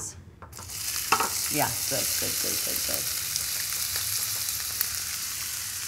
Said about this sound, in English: we're going to saute some onions in it